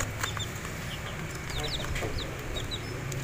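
Chicks of a crossbreed cluck and peep in a small rooftop poultry pen, soft chirps scattered through a steady, noisy background.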